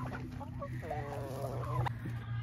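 Nearby chickens cluck and murmur over a constant low hum, with a few short calls rising and falling.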